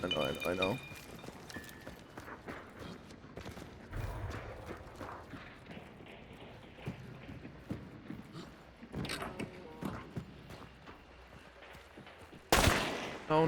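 Sharp gunshots ring out sporadically in the video game Hunt: Showdown 1896, mixed with clattering footsteps and game ambience while people talk over them.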